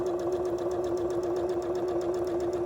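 Sewing machine chain piecing fabric, a steady close motor hum with a fast, even needle patter running continuously throughout, no talk.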